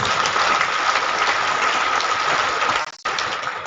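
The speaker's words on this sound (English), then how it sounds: "Can we please give the Commandant another round of applause?" Sustained applause from a crowd at a Nigerian Armed Forces ceremony, dense steady clapping that briefly drops out near the end before resuming.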